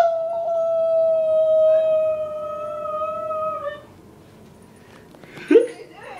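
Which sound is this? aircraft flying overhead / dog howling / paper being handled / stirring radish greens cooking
dog howling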